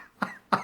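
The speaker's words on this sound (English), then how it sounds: "I'm going to cough myself to death." A person coughs twice in quick succession, two short harsh bursts close to the listener with a brief gap between them.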